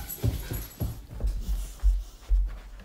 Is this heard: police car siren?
no